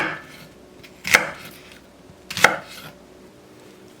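A knife coarsely chops onion and green onion on a board, for acorn jelly rice soup with dried anchovy broth: two sharp, close chops about a second apart in a quiet room.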